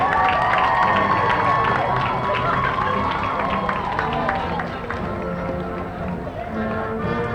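Crowd at a street parade cheers and claps for a Catholic school group passing by, with shouts and voices mixed in. Music plays over the noise, which stays loud throughout and fades slightly toward the end.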